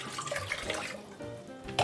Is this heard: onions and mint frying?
no